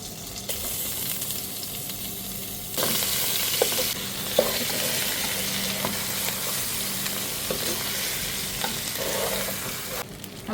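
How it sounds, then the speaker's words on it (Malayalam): Fried chicken pieces tipped into a pot of biryani masala with cinnamon, cloves and star anise give a loud, steady sizzle that swells after a few seconds, with scraping stirs and light clinks throughout and no talk. "ഇനി നമുക്ക് ഈ വറുത്ത് വെച്ചേക്കുന്ന ചിക്കൻ ഇതിനകത്തോട്ട് ഇടാം."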